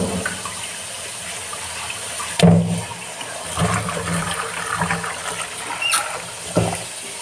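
Running tap water rinses food in a home kitchen during cooking, a steady close gush with a few splashy bursts and clatters as the food is moved under the stream. No one speaks.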